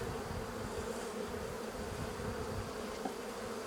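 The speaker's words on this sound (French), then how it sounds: "Donc là, l'essaim, bon, il n'est pas énorme. Il tient dans la houssette facilement." A small honeybee swarm drones in a steady, dense buzz from close by as it is moved into a hive, unbroken throughout.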